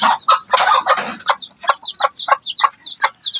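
Two-week-old chicks in a brooder give a dense chorus of high, rapid peeping and chirping, close and busy, with a few lower clucking calls near the start.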